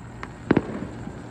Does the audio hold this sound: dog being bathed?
no